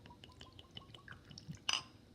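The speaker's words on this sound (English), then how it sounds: "let me see if I can pour myself a little drop of this without spilling too much" Crown Royal Texas Mesquite whisky poured into a glass, a faint close trickle of small drips and splashes ending in a brief brighter clink, with no talking.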